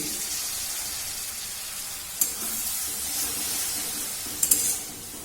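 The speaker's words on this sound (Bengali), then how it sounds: "আমি মশলাটাকে ভালো করে একটু কষিয়ে নেব একটু জল অ্যাড করছি" Water poured into masala frying in a pan gives a steady close sizzle with a hissing spray quality and a couple of brief sharp clinks near the end.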